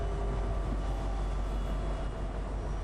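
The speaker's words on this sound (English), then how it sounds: "Little scenic route, taking the train to the center of the map." A train moving in Fortnite during a competitive match: a steady, loud rumbling roar of rolling wheels and engine that holds constant without a break.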